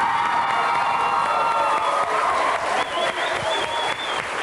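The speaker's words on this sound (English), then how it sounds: "Give another round of applause." A theatre audience applauds and cheers for a group of girls taking their bows on stage after a school performance of Lord of the Flies. The clapping is thick and sustained, with whoops and children's shouts mixed in.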